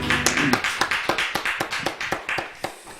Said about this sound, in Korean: 하나님께 우리 영광의 박수 올려드리겠습니다.